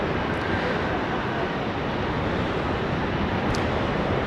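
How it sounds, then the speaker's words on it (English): Qantas Boeing 737-800 airliner taking off from Sydney Airport, a steady broadband jet roar that holds loud and continuous throughout, with no voices over it. "And now departing, we've got Qantas 738"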